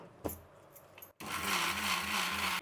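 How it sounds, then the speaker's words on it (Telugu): An electric mixer grinder grinds grated coconut and poha, its loud, steady whirring motor whine starting abruptly after a quiet moment with a few small knocks, then running on strongly to the end. "ఇప్పుడు మిక్సీ పట్టేద్దామండి."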